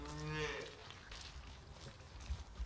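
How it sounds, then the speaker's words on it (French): A cow lets out a low, drawn-out moo near the start, fairly close and clear, then fades into quiet background noise with a couple of soft thumps near the end. "toujours la vache derrière."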